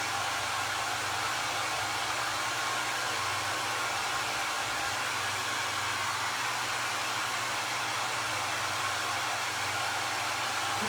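A hair dryer blowing on a freshly decoupaged bread tin, a continuous loud whooshing roar that holds steady throughout with no speech.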